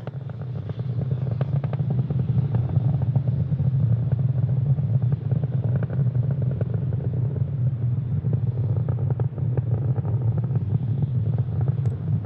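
SpaceX Falcon 9 rocket engines roaring during ascent around supersonic speed and Max Q, a continuous loud, dense low rumble with crackling texture that holds steady throughout, with no voices.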